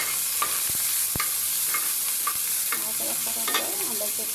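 Chopped onions fry in a kadai on a stove, a close, continuous sizzle with light stirring scrapes and a couple of sharp utensil taps.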